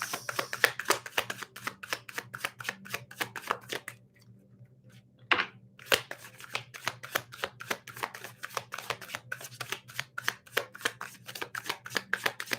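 Tarot cards are shuffled in rapid, crisp riffles close by, the rhythmic flicking pausing briefly midway before resuming with a sharp burst and continuing steadily.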